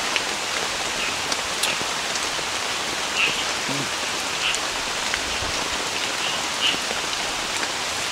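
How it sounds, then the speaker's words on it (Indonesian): Heavy rain pours steadily on a riverside campsite, a loud, unbroken hiss of drops drumming on surfaces with no letup throughout. "hujannya tuh gede banget, tambah sama angin sama geluduk atau petir"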